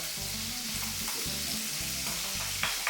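Onions fry in a pan with a constant close sizzle, joined by faint rhythmic clatter from stirring and a light clink near the end.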